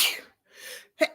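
A single sharp sneeze rings out, preceded by a breathy intake, then silence.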